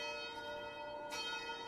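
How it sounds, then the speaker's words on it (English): Church bells ring in a steady sustained drone of layered tones, fairly distant and even, with a brief brighter swell partway through and no voices. "you begin to hear the bells much louder this time"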